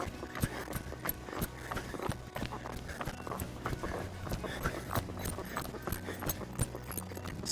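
Hoofbeats of a young horse being started under saddle, loping around a pen near a fence, drum in a steady rolling rhythm close by, with some faint talk mixed in.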